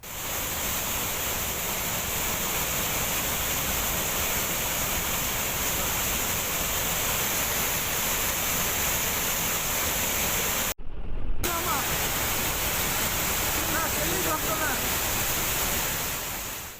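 Water gushes from the opened shutters of the Amaravati dam, a loud, constant roaring rush. It cuts out abruptly for a moment near the end, then roars on.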